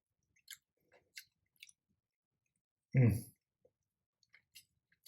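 Roasted golden beets being tasted: a few faint clicks lead to one loud, close, wet bite and chew near the middle, followed by a handful of soft scattered clicks and small mouth noises in an otherwise quiet room.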